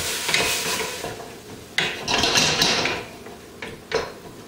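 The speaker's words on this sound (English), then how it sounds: "the onions have been sauteing for about 3 minutes" Onions sauteing over medium-high heat in a pan for hamburger stew, with bursts of sizzle and stirring scrapes coming and going close by, no voices.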